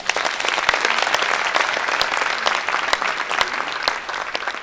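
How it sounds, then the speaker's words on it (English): Steady, dense applause from a large audience at a builders' conference opening ceremony, many hands clapping at once in a full, sustained roar that holds for several seconds. "they deserve a round of applause"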